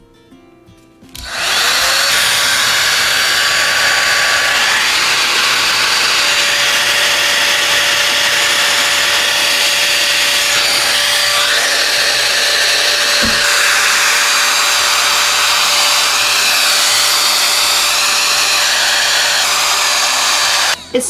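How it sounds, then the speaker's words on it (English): A Temu Dyson Airwrap dupe hair dryer switches on after a quiet moment and blows hot air in a loud, steady whirring roar with a faint whine, running close and unbroken for about twenty seconds. "It's a blow dryer, that's all it is."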